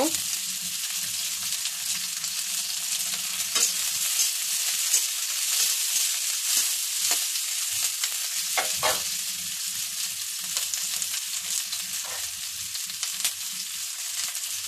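Onions frying in fish oil for a potato and okra dish, a steady close sizzle running throughout with occasional stirring clicks, no talk.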